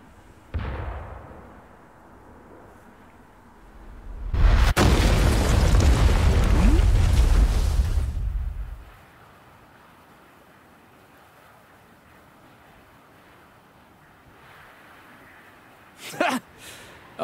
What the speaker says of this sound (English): But firing the cannons was a bit much.